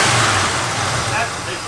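A barn-find Oldsmobile with twin two-barrel GM carburetors, abandoned for 23 years, runs with a steady, loud mid-pitched engine drone close by, fading slightly toward the end.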